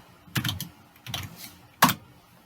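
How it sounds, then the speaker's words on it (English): Three short bursts of keystrokes on a computer keyboard while entering a terminal command on a Raspberry Pi, close and moderately loud, separated by brief pauses, with the last burst sharpest. "And then type in NeoFetch"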